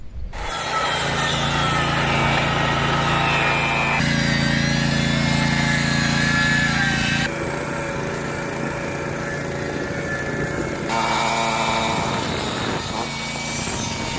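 A 1200-watt electric saw powered by a 2 kW generator, used while insulating a houseboat deck in Kaunas: a loud, continuous motor whine and cutting drone that shifts in pitch for the whole stretch, with the generator's hum beneath.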